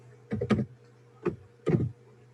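Fingers tap a computer keyboard while typing a spreadsheet cell address, giving three short clusters of quick, quiet clicks separated by brief pauses.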